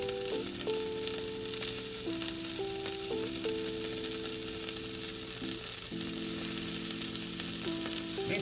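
About three cloves of freshly minced garlic fry in a pan for an oyster mushroom stir fry, giving a continuous soft sizzle under steady background music.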